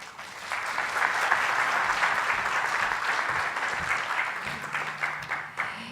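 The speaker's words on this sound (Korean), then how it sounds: "여러분 다시 한번 큰 박수 부탁드리겠습니다" An indoor audience at an architecture technology conference on mixed reality gives sustained, dense applause for several seconds, loud and close. A faint voice sounds beneath it near the end.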